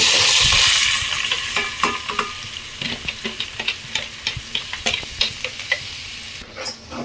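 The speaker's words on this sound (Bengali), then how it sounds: "এভাবে ভালো করে নেড়ে নিতে হবে।" Soaked rice fries in oil in a pot for pilaf, stirred with repeated scraping strokes over a steady sizzle, loud at first and then settling into a rhythmic pattern.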